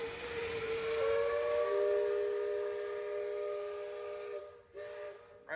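A steam whistle blows one long, steady chord that holds for several seconds before cutting off, heard from some distance outdoors in Liberty Square at Magic Kingdom.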